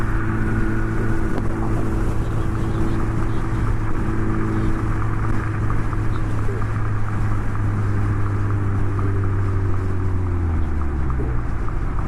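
Engine drone and road rumble from a DF Goblin car on the road, a steady, moderately loud hum whose pitch shifts downward near the end as the car changes speed, with no talking.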